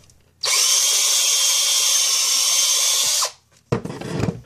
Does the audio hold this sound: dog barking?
no